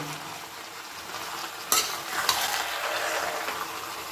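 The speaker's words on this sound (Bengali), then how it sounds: "সুন্দর করে দেখুন মিশিয়ে নিচ্ছি সমস্ত মশলার সঙ্গে বাঁধাকপিটাকে" Cabbage tossed with spices in a pan for a fish-head cabbage dish, a steady sizzle with scraping stir strokes and a couple of sharp clanks of the utensil against the pan, close and continuous with no talking.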